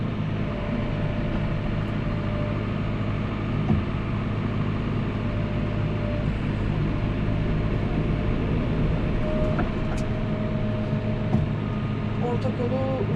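A tractor lowers and pulls a harrow slowly across a stony field, a constant loud low engine drone with rattling and scraping through the whole stretch.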